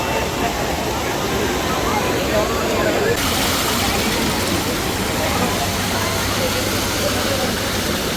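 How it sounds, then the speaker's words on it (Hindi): Rushing water at Sahastradhara roars loud and constant, a thick unbroken wash of noise that fills the whole stretch, with voices faintly mixed in. "पानी का आवाज़ आ रहा गाइस बहुत तेज"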